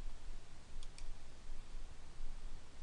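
Two quick mouse clicks sound close together near the one-second mark while operating GPS Pathfinder Office software, faint and sharp over a steady background hiss.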